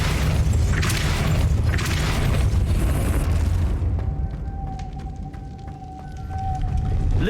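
A Depulso spell cast in Hogwarts Legacy, a heavy booming blast with dense low rumble that fades out after a few seconds into a quieter ringing tone.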